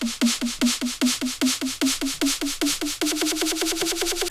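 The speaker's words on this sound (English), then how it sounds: "And then next up is a snare. It sounds like this." Snare drum in a future bass build-up, struck in a steady run of crisp, loud hits that quicken into a denser roll near the end, with no voices.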